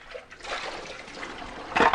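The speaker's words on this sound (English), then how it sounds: "now what we need to do is just to rinse around the bowl with some water" Water swirling and sloshing around a Thermomix TM6 mixing bowl during a rinse, a steady close hiss of running liquid with a louder splash at the end.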